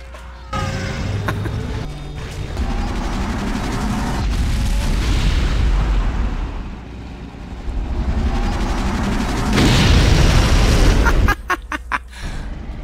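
Tank shells fire and explode in Unreal Tournament 2004, heavy booming blasts that swell into a long roaring rumble, then a second loud burst near the end, with no voices.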